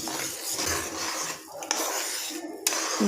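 Jaggery and peanut mixture stirred in a pan for peanut chikki, a steady scraping and rasping of a spoon against the pan with a couple of sharp clinks, fairly faint.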